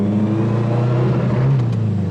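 Nissan 240SX engine in limp mode, heard from inside the car as a loud, steady droning rev with a rough, breaking-up tone, holding a constant pitch throughout with no talking.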